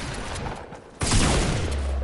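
Burst rifle gunfire in Fortnite, with quieter rattling shots followed by a sudden loud dense volley that continues steadily through the rest of the moment, close and harsh.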